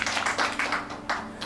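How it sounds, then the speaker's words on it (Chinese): Applause from an audience at an arts association's launch ceremony in Taipei, a fairly brisk patter of clapping with a few louder surges, moderately near and heard alone. "掌声鼓励"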